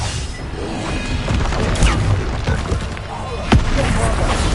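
A Bombarda spell explosion in Hogwarts Legacy, a dense game combat mix with a sharp booming burst near the end over continuous rumbling battle noise.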